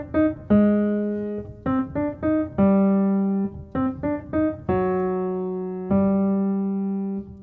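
The TVA theme from the Loki film score: held, sustained orchestral notes in a short repeating melodic pattern, with brief stabbing notes between longer swells, loud and with no talking.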